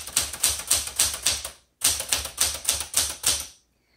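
Rapid clacking keystrokes on a Galaxie Twelve manual typewriter come in two quick runs of steady, evenly spaced strikes, loud and close, separated by a brief pause and ending in silence.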